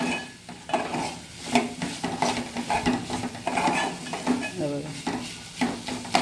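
Peas and cabbage with tomato sauté in a pan, with an irregular scrape and clatter of a spoon stirring against metal over a light sizzle, close by, and faint talk in the background.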